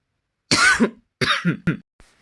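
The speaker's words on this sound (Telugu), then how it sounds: "సారీ ఫ్రెండ్స్ కొంచెం దగ్గు వస్తుంది" A few harsh coughs from a person up close, one long burst followed by two shorter ones, then quiet.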